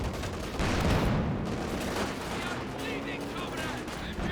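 Machine gun fire in a Company of Heroes 2 multiplayer battle: dense, continuous rattling gunfire with distant blasts forming a loud wall of combat noise, mixed under talk.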